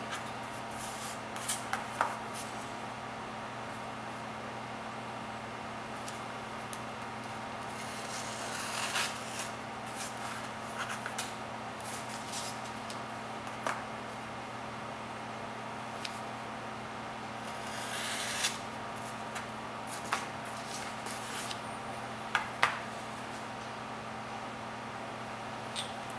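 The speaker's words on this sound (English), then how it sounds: "Sorry for the fan noise." A quiet, steady electric fan whirs with a low hum throughout, while scattered clicks, taps and rustles of handling come and go over it during guitar restoration work in a hot workshop.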